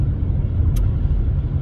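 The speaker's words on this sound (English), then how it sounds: "I'm in my EV, driving down the road" 2020 Nissan Leaf S Plus electric car driving down the road, a steady low road and tyre rumble inside the cabin with no engine note, continuous and moderately loud.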